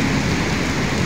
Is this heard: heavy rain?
yes